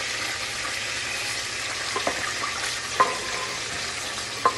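Pieces of conch frying in a pan of hot oil for Haitian lambi, a steady broadband sizzle running throughout with a few soft clinks and stirring knocks near the end.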